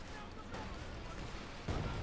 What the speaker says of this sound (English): They're firing out the 75mm cannon